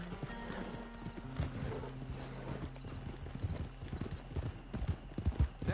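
Horse hooves clip-clop in an uneven rhythm, with a horse whinnying early on; the hoofbeats grow louder and more distinct toward the end. From the video game Red Dead Redemption 2 Online.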